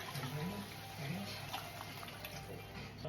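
Three-quarters of a cup of water is poured for taco pasta, a steady, soft, close splashing stream that runs unbroken throughout.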